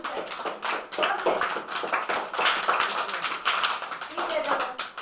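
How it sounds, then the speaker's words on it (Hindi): A group of children clapping in a classroom, a burst of quick, uneven handclaps with voices mixed in. "एक बार ताली बजाओ"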